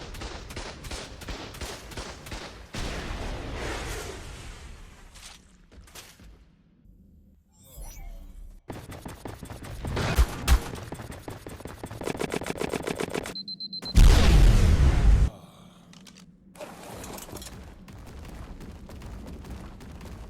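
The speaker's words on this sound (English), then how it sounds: "Then I fired 2 nice rockets and destroyed 5 turrets that were protecting this cave." Rockets and turret fire ring out in the survival video game ARK, with rapid machine-gun bursts, sharp blasts and heavy booms in uneven loud stretches separated by brief quiet gaps.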